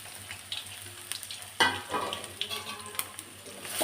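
Chopped onions and two or three thin green chillies fry in oil for a Telugu-style chicken curry, giving a steady close crackling sizzle with occasional sharper pops and stirring scrapes, no talk.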